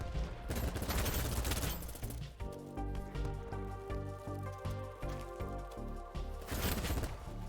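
Weapon fire in the shooter Battlebit Remastered, with an MP7 submachine gun in use: a dense opening volley, then a rhythmic stretch of repeated sharp reports over game sound, and another heavy burst at the end.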